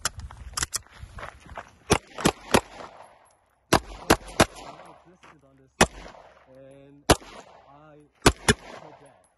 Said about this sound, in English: I'm just gonna burn through a mag just for you guys.